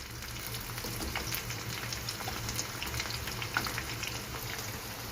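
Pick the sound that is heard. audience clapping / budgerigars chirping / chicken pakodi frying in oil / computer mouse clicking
chicken pakodi frying in oil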